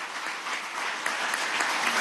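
Sustained crowd applause at a government ceremony where a health-sector collective contract is signed, a steady dense clapping wash that holds at even loudness throughout with no voices above it.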